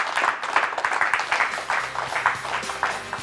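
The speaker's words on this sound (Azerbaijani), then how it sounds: "Alqışlarınızla." A studio audience applauds to welcome a guest on a talk show, dense continuous clapping that is fairly loud and steady throughout, with a faint voice briefly underneath.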